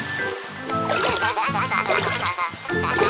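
Water splashes in a cartoon fountain on a children's vehicle show, bubbly gurgling spurts mixed with music and chirpy cartoon sounds.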